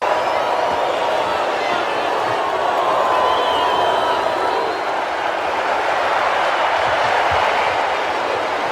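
A large boxing-arena crowd roaring for Drago in Rocky IV, a loud sustained wash of cheering and crowd noise with overlapping voices, steady throughout.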